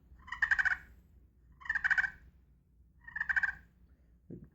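Three soft, rolling purrs from a turkey call, evenly spaced and close, each a short fluttering trill, with no voices.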